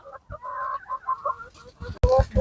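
BV380 hens on a grassy farm run cluck in short bursts close by, with a louder flurry of squawks near the end; a faint voice may be underneath.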